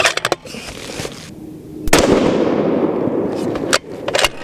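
Two rifle shots from a custom lightweight Terminus Kratos 7 PRC rifle firing 195-grain Berger rounds, each a loud sharp crack with a rolling outdoor echo, the second about two seconds after the first, framed by faint clicks and handling noise.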